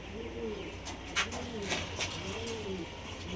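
Pigeons coo softly in a quiet spot as they are released, giving three or four rolling, throaty calls with a few sharp flutters between them.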